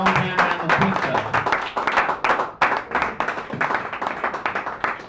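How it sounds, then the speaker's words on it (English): An open mic crowd at a small San Francisco cafe claps for two performers, a lively burst of scattered hand claps close by that rises and dips for several seconds. "let's give a big warm round of applause for Teddy and Fiona"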